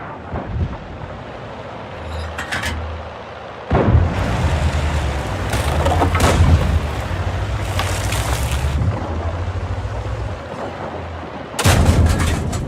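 Booming cannon blasts from a tank in World of Tanks, several heavy shots with rumbling low-end aftermath, loud and close, separated by stretches of engine and wind-like noise.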